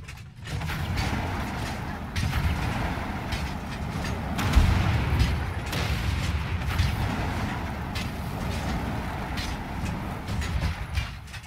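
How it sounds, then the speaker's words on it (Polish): Explosions rumble through a Wolfenstein II: The New Colossus firefight in the catacombs, with a steady low roar and repeated heavy bursts and crackling impacts over about eleven seconds, no talking. "Wybuchy bardzo fajne."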